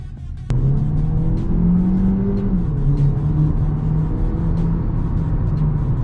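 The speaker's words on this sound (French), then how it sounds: "Là, j'ai essayé de vous faire une petite accélération pour voir à quoi vous vous attendez" Hyundai Tucson engine revs up sharply after a brief lull, then holds a loud, steady droning acceleration with a rising and settling tone, heard close from inside or near the vehicle with no talking.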